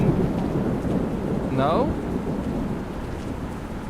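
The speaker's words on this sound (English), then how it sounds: "I'm sitting in my room, it's raining and there is thunder" Rain pours steadily and thunder rumbles low in a horror video game, a constant near wash of rainfall with a distant roll of thunder and one short spoken word.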